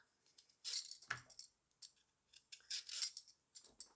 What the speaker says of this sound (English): Now, I am peeling the carrot.